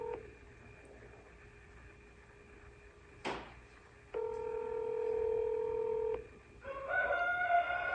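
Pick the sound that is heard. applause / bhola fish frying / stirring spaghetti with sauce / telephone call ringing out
telephone call ringing out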